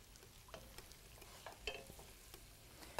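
Beef and vegetables browning in a pot for burgundy beef stew, heard as a quiet, steady sizzle broken by several soft stirring scrapes and clanks.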